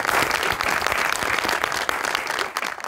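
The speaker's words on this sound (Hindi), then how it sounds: "तालियां होनी चाहिए" Studio audience applause on a Pakistani talk show, loud dense clapping from a crowd that continues steadily throughout and tapers slightly at the end.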